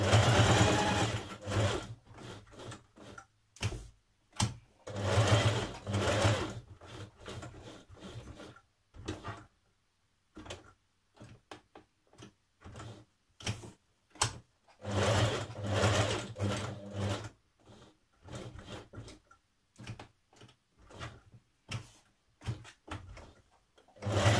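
A sewing machine topstitches around a fabric tab in several bursts of rapid, steady stitching, broken by pauses filled with clicks, handling and fabric rustling.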